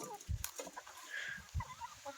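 A chicken pecks at leaves in a backyard, giving a few soft clucks and low taps, faint and close, with light background noise.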